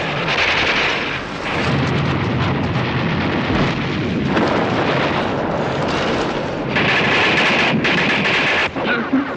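A war film battle scene on a beach erupts with dense, continuous gunfire and repeated explosions, loud and chaotic, with no pause throughout.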